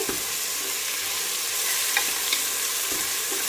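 Peas being stirred into fenugreek (menthya) pulao in a pan. The stirring scrapes softly and steadily under a low, continuous sizzle, with a few light clinks from the spoon and no talking.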